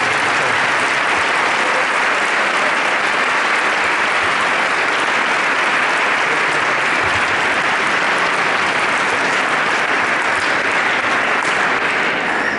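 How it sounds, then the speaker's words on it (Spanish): A crowd gives a long, loud, continuous ovation at a school sports program's year-end closing ceremony in Zapala. The dense clapping fills the whole stretch evenly and drowns out any voices. "un fuerte aplauso, les pido por favor."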